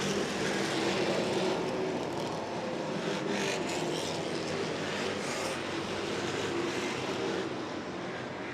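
ACT series race cars circling Twin State Speedway in Claremont, New Hampshire, a dense, steady roar of multiple engines passing at a distance with no talk over it.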